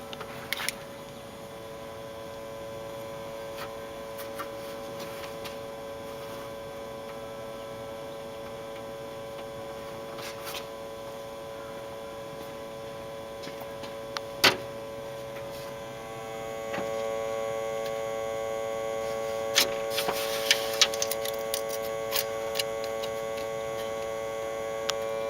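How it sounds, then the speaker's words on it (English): An electronic timing box humming during a magneto timing check on the engine of a 1978 Cessna R182 182RG, a steady tonal hum throughout with scattered faint clicks and ticks, no talking. "And the timing box is humming."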